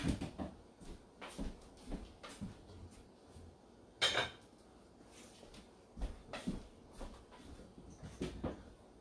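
Someone fetches a dish from a kitchen cupboard: several soft knocks and clatters, with one sharper clink of crockery midway, faint and close in a quiet room.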